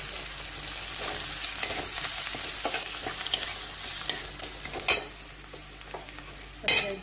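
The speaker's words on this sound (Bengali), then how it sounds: "এবারে এটাই ভালো করে মিশিয়ে নিই।" Turmeric, chili powder and breadcrumbs stirred in a hot frying pan, a continuous close sizzle with scraping spoon strokes and a few sharper clanks against the pan.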